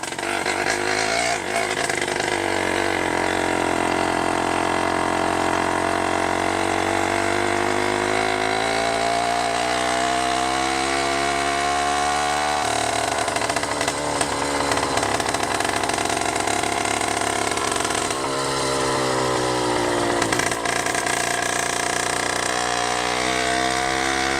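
A 100cc motorized bicycle engine with a 49mm iron sleeve drones loudly and continuously while riding, its pitch rising and falling as the throttle changes, with a raspy two-stroke buzz close up and no talking.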